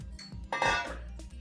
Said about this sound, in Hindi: अब हम कुकर में राजमा को डाल देते हैं।